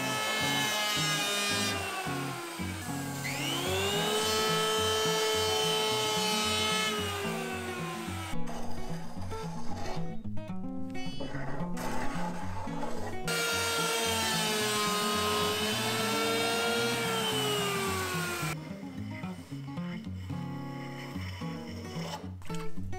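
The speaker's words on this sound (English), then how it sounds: "Use the electric plane to finish the end surface." An electric plane works across the end grain of a monkey pod wood board, giving a loud, steady whine that dips into rough cutting bursts and returns, with no talk.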